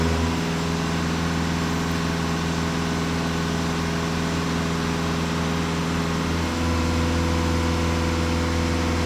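A Volkswagen Passat B8 engine idles in a steady, even drone, close and continuous, with a slight shift in tone near the end and no voices.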